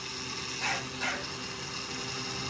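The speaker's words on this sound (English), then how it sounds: "I apologize for Guwap barking, y'all" An American bully dog barks twice in quick succession, faint and somewhat distant, above a low steady background hum, with no talking.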